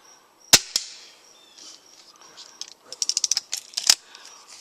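Break barrel airguns are fired at targets at different ranges outdoors, giving sharp snapping shots, one near the start and a rapid cluster of clicks and cracks later on, alongside quiet background activity.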